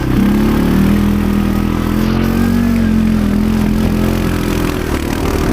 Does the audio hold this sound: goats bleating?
no